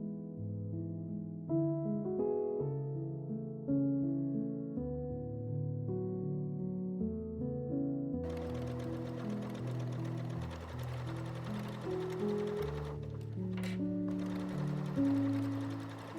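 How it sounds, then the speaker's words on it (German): Sewing machine running a straight stitch along a folded hem on a halter top, its motor humming in steady runs with short pauses, close and clear with no talking. "dann nähen wir das mit einem Geradstich"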